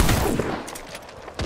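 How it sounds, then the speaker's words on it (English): Video game gunfire in rapid bursts, loud and close at the start, easing off, then another sharp crack at the end. "Shots fired and they're hitting me."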